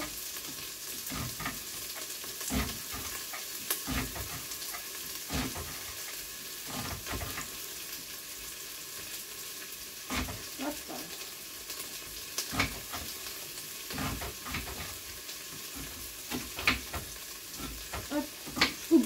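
A roughly chopped large onion frying in a pan gives a steady close sizzle, broken by frequent stirring scrapes and knocks of the utensil.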